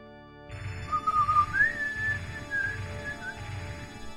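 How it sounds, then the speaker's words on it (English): A person whistles a wandering, sliding melody close to the microphone during a Super Mario 64 play session, loud and continuous over a low background hum for about four seconds. "whistling is loud in this mic"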